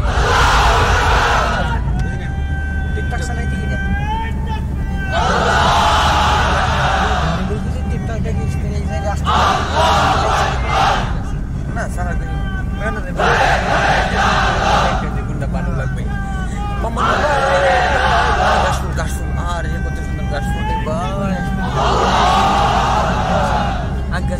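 Unmarried men in a large crowd at an outdoor Islamic sermon gathering roar the takbir in loud repeated collective shouts, answering a preacher's amplified calls, with steady background babble throughout.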